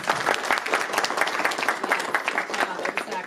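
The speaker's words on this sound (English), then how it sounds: "They deserve your applause." An audience at a tech meetup applauds, a dense burst of many hands clapping at moderate volume that sustains steadily for a few seconds without fading.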